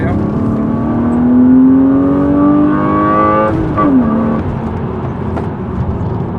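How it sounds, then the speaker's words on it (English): A modified 1990s BMW 328i E36 with a dual-mass flywheel, heard from inside as the engine revs rise in a smooth climbing pitch, then drop back briefly, fairly loud and close, with no talking. "it does take a little while before the revs then rise once you flick the accelerator"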